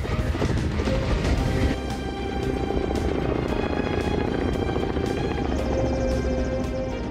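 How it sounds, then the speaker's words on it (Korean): Firefighting helicopter flying low over a mountain wildfire after filling with 3,000 liters of water, a steady loud rotor roar and engine drone that runs unbroken, with a few sharp thuds and splashes near the start. "시원한 물줄기를 뿜으며 헬기가 상공을 가릅니다"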